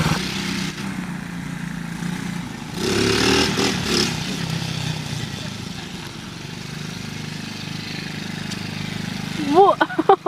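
Small engine of a cheap garage-sale ATV revving and droning at close range as it is ridden in wheelies, loud throughout with a brief surge partway through.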